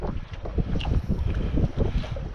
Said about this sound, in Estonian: sest tuul on nii kõva